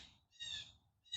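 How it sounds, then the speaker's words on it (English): Wild birds calling near a chicken coop, giving two or three short, faint high-pitched calls with brief gaps between them and no voices. "We have got some birds just, they're like having a field day out here, arguing apparently with each other."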